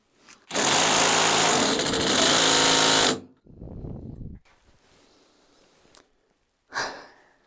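A Bosch GDR 12V-110 cordless impact driver strains against a stuck nut, delivering a loud, buzzing burst of about three seconds, then a shorter weaker run, then a brief final pulse, close and unaccompanied by talk.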